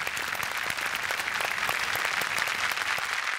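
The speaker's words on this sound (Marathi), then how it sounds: "जोरदार टाळ्या." Loud, dense applause from a studio audience at a Marathi comedy show taping, steady and sustained throughout without voices.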